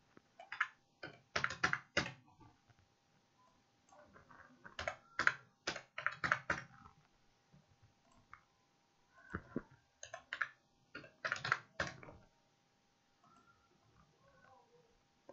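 Fingers type on a computer keyboard in short bursts of clicky keystrokes separated by pauses, close and fairly quiet, with a faint steady hum underneath.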